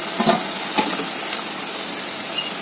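Rice flour snacks frying in hot oil, a steady close sizzle and bubbling hiss with a few stirring clinks near the start.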